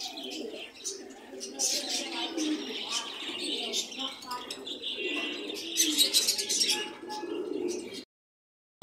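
Pigeons coo and chirp at a busy pigeon market, a steady murmur of birdcalls with people talking throughout.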